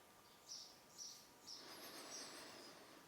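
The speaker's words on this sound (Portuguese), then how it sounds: "Ouça os barulhos do ambiente," Faint bird chirps repeat at a steady pace over quiet background hiss, with a thin high whistling call drifting in partway through.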